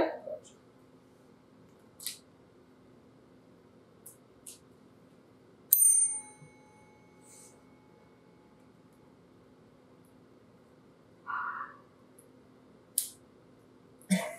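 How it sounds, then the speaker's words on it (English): A small bell rings sharply a few times, bright, close pings spread across a quiet stretch with a faint steady hum behind, separated by silence. "Wait for the bell, then act accordingly."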